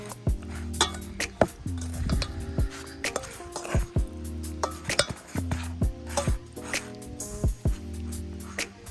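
A spring salmon salad is tossed in a bowl, the utensil clinking and scraping against the dish in quick, irregular strokes, close by under steady background music.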